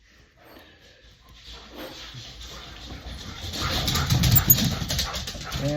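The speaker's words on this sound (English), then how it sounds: "And there's the dogs." Several dogs whimper and bark, starting faint and growing louder and busier toward the end, with a snort or two mixed into the outdoor background.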